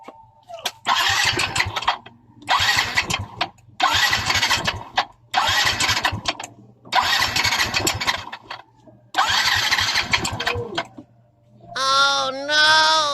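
Yamaha Mio i 125 scooter engine with a ticking head and piston slap, cranking and revving in six loud, roughly even bursts separated by short pauses, then settling into a steadier running tone.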